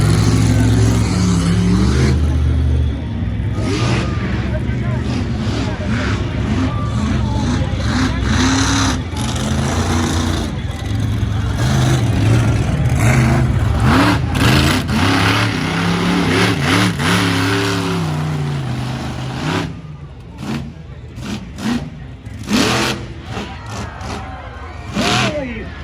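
A monster truck engine revs hard and roars close by while the truck tips onto its nose and drops back down at a monster jam arena, with the engine easing off near the end and an announcer talking over it.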